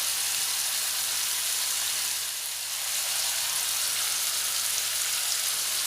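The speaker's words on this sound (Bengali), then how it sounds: "দিয়ে নাড়াচাড়া করে খুব ভালোভাবে আলুগুলো ভেজে নেব।" Potatoes frying in a pan with salt and turmeric, a steady, dense hiss of sizzling oil that continues evenly throughout with no talking.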